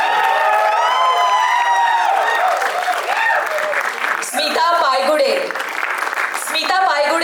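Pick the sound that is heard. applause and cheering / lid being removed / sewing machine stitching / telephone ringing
applause and cheering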